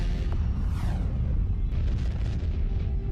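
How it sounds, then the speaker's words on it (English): Deep cinematic boom of a massive star exploding, a loud rumbling blast with a rising whoosh and lingering crackling debris, heard alone without voices. "a massive star explodes, sending a lethal burst of energy rocketing toward our planet"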